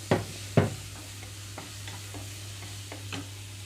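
Grated beetroot and green chillies frying in a pan, with a few sharp scraping stirs at the start and softer taps later over a low steady hum, no voices.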